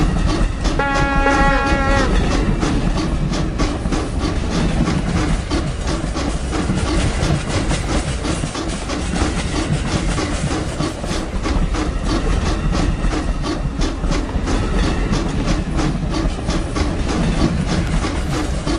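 A Stephenson's Rocket steam locomotive in a train simulator game rumbles and chugs steadily and loudly throughout, with a brief whistle sounding near the start.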